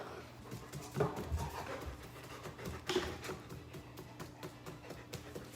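A dog pants rapidly and rhythmically nearby, quick short breaths repeating throughout at a moderate volume.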